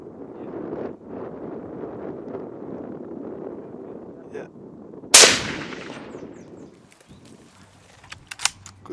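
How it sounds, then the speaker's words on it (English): A single sharp rifle shot cracks loudly at mid-clip during a Chinese water deer hunt, following quiet murmured talk and wind, with a brief tail afterward. "Good shot, Dan."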